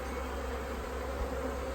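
Honey bees on a Maine farm in early spring, being fed by the farmer, give off a steady, close, continuous buzzing drone with no talk over it.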